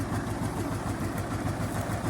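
A T-25 tractor diesel engine chugs steadily while plowing summer stubble with a UNIA 3-25 plow, a loud, continuous low rumble with a fast, even beat, heard up close with no talk.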